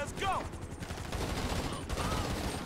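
Rapid video-game gunfire in GTA 5, bursts of automatic shots over a dense, noisy game soundscape with a voice talking over it.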